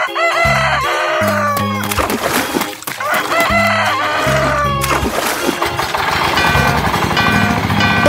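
Loud chicken and rooster calls, with repeated clucking and crowing alongside heavy pounding low thuds in an animal guessing game, layered with other noisy sounds throughout.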